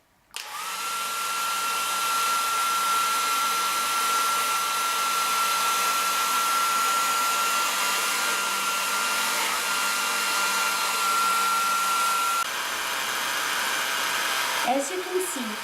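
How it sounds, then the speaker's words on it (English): A hair dryer on a higher heat setting blows hot air onto ice, a steady loud whir with a faint constant whine that runs unbroken for about twelve seconds before shifting pitch and cutting off. "The second group will use the second velocity of the hairdryer with"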